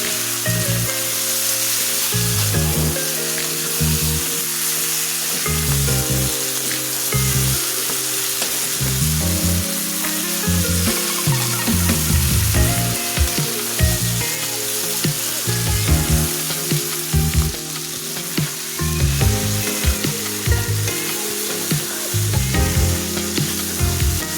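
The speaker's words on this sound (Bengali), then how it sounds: "আলু আলুটা দিয়ে আমি ভালোভাবে কষিয়ে নিই" Potatoes sautéing in a pan alongside rohu fish curry preparation, with a steady loud sizzle and frequent stirring scrapes throughout, no talking.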